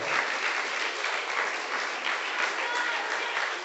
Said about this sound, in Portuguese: Você pode dar uma linda salva de palmas ao Senhor.